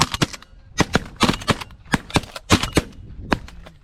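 Shotgun blasts ring out during a pigeon hunt, a string of roughly a dozen sharp, loud reports in quick pairs and singles, close by and echoing briefly between shots.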